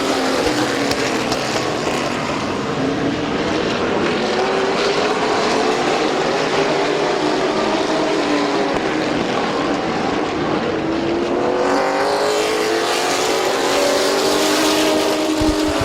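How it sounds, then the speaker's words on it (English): Race trucks speed around the Midvale Speedway oval, a continuous loud engine roar with rising and falling pitch as they pass, the pack sound swelling again near the end. "The number 6 truck up to the 3rd spot as he gets around Huff."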